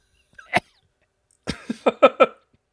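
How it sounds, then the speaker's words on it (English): A single short cough, a pause, then a run of several quick coughs in a row, close and fairly loud in a quiet room. "The cough at the end is what really does it for me"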